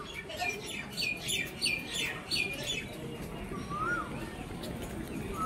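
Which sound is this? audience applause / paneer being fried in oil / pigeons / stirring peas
pigeons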